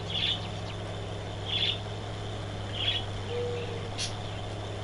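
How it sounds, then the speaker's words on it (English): A pet budgie on a Canadian farm gives short, faint, evenly spaced chirps about every second and a half over a steady low mechanical hum indoors. "Yeah, budgie."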